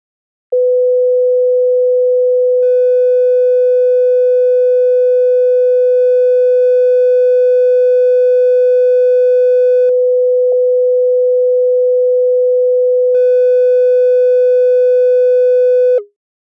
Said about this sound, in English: So let's listen to the sine wave with that turned on.